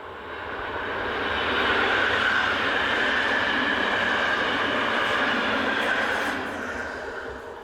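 Dutch passenger train, set 508, running on a working to Tilburg West, a steady broad rumble and rail roar that swells up and holds for several seconds before easing off, no voices.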